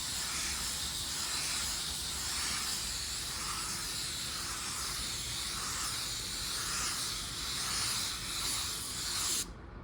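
Spray gun laying down a second coat of automotive paint, a steady pressurized hiss with gentle rhythmic swells as passes are made, close and continuous before cutting off abruptly at the end.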